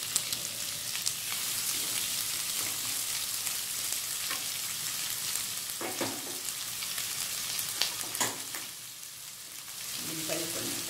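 Chopped onions fry in hot oil in a pan for chicken fry, a loud, steady crackling sizzle like rain on a surface, with occasional scraping stirs and clicks cutting through.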